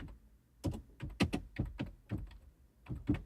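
Quiet keystrokes on a computer keyboard come in an irregular run of close taps and clicks, some in quick pairs, with no voices.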